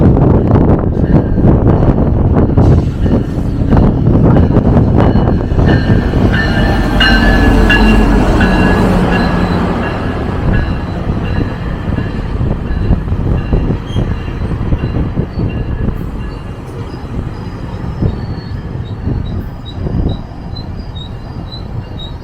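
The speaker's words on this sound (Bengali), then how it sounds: "দোতলা ট্রেন এই গো ট্রেন দিয়ে বিভিন্ন সিটিতে যাওয়া যায়" A heavy double-decker GO Transit commuter train in Ontario rumbles past up close, with loud roaring wheels, metallic squeals and rattling that gradually ease into a steady rolling drone.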